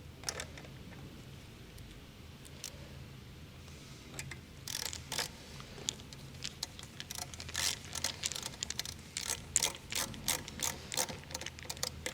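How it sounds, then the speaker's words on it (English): Small, faint ratcheting clicks as a screw is driven in to fix a new stereo in a Porsche Cayman, quiet at first, then irregular bursts of ticking that grow more frequent and louder. "Attach a screw on the side there."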